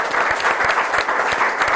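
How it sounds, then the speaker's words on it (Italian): Audience applause at a regional sports promotion meeting, a steady, dense burst of many hands clapping together throughout, fairly loud and close, with no talking over it. "Un applauso a Roberto."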